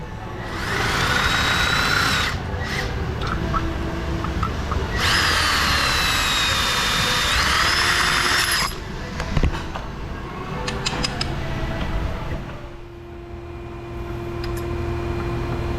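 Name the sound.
power wrench on bolts of a 2008 Jaguar XJ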